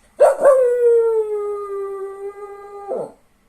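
A cockapoo howls on command: one sustained, tuneful howl lasting about three seconds, close and clear, ending in a short breathy tail with no talking.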